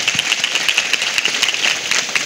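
A congregation claps steadily at a fasting prayer meeting in a Baptist church. The clapping is dense and continuous, fills the whole moment at a moderate level, and no one speaks over it.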